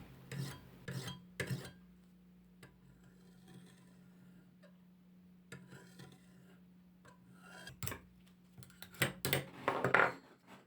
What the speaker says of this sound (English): This is the process of a sharpening blade, lowering the blade and rising back up.